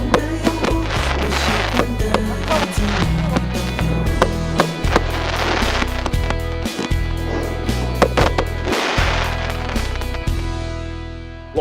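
Fireworks effect set off by a gift in a livestream: dense crackling bursts and sharp pops over a pounding electronic music track, loud and continuous throughout.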